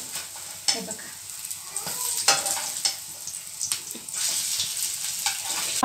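Cutlet patties shallow frying in a pan, a steady broadband sizzle with intermittent clinks and scrapes as they are turned, fairly close and continuous with no talk.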